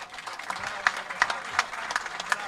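Audience applause after a Cretan song at a Greek music broadcast: scattered mid-distance hand clapping, fairly soft and uneven, with faint talk underneath.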